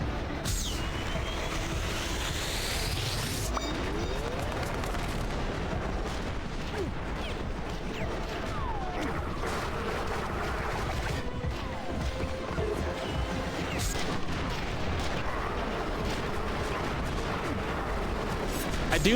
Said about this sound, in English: That's the Halo sniper. Pretty much, like the energy rifle.